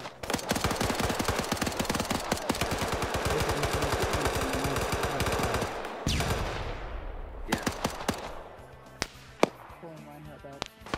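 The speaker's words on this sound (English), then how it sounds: "Oh wow, they're mag dumping him." Sustained rapid automatic gunfire from a video game, a full magazine emptied at one player, loud and dense for about six seconds, then scattered single shots and bursts amid quieter game noise.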